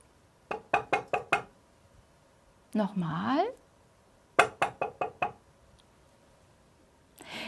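Knocking on a large town gate, two quick series of five sharp raps separated by a short spoken phrase, close and crisp in a quiet room, with a brief voice between the knocks.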